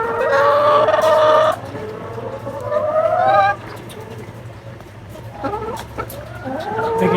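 Chickens cluck and squawk close by in loud bursts, one long call at the start, then more clucking after a quieter stretch.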